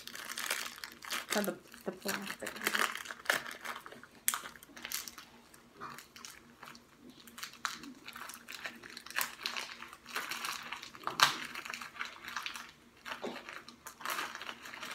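Plastic packaging around a foam hand wash crinkles and rustles in irregular bursts as it is pulled from a box, with a voice talking intermittently over the handling noise.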